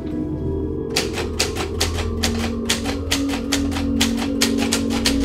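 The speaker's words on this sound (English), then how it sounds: "why are you typing that?" A haunted typewriter types on its own with rapid, evenly spaced key strikes starting after a short hush, continuing steadily and close over a low background hum.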